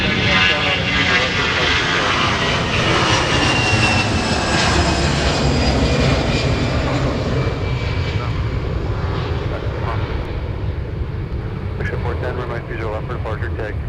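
A Delta airliner takes off from Minneapolis MSP airport, its loud, continuous jet roar slowly fading into the distance as a voice talks over it.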